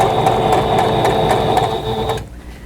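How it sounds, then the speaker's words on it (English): A sewing machine stitching a quilt block hums steadily with a fast mechanical whir, running continuously up close before stopping abruptly near the end. "So we'll take this to the sewing machine and sew this piece."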